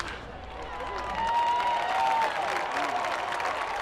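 A baseball stadium crowd at a Greenville Drive home game cheers and claps in a broad, continuous roar that swells slightly midway, with a few whistles rising above the noise.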